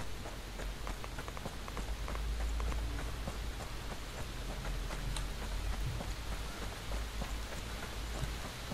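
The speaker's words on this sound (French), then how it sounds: "Ah, puis là, ça fait du bruit, hein, la pluie" Rain falls in the Fear the Wolves battle royale game, a steady dense patter of drops on surfaces that continues without a break and with no talking.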